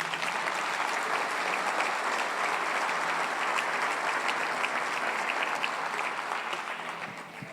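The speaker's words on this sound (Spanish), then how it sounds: "Vamos, dale un aplauso al Señor." A church congregation breaks into sustained, dense applause that holds steady for several seconds before easing slightly at the end.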